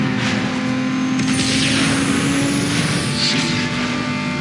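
Race car engines in the Need For Speed Underground 2 video game, a loud continuous roar with steady whining tones and a rising sweep partway through, no talk over it.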